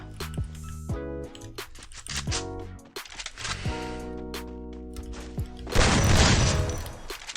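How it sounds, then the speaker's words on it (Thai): An SKS rifle in the shooter game Free Fire fires repeatedly, sharp shots mixed with game music and effects, building to a loud, dense burst near the end. "เฮ้ยปืนอะไรวะยิงผมอย่างเจ็บเลยครับทุกคนอ๋อ SKS นะครับ"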